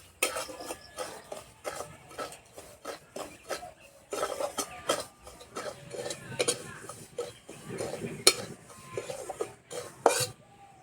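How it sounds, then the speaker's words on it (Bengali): Semolina stirred and dry-roasted with a little salt in a wok: repeated scraping and rubbing strokes of a utensil against the metal, irregular and close, with no talking. "সুজিটা কিছুক্ষণ এইভাবে নেড়ে নেব যাতে সুজির কাঁচা গন্ধটা চলে যায়।"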